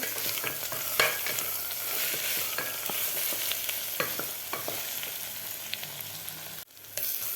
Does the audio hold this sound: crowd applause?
no